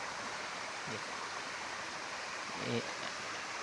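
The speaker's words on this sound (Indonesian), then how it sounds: "Tuh Sungai Citahanan ke sana." Citahanan river flows in a steady, even rush of water heard from nearby, a soft continuous hiss with a couple of brief voices murmuring faintly over it.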